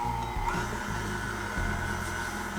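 A stand mixer fitted with a dough hook churns dry dough ingredients, flour for cheesy garlic bread, giving a steady, loud motor whir with a low rumbling drone that runs unbroken throughout.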